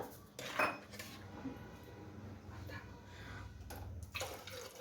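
Water poured from a glass into a metal cooking pot for khara pongal, with clanking of the pot and utensils, a steady close splashing pour through most of the stretch and no talking.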